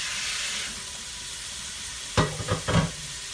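Rice dressing ingredients frying in oil over a high flame, a steady close sizzle that swells into a few louder bursts of stirring and hissing toward the end.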